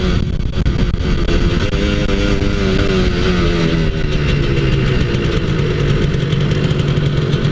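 A Kawasaki KR150 two-stroke motorcycle engine revs loudly and close, a continuous raspy roar whose pitch climbs and then eases back as the throttle is held open.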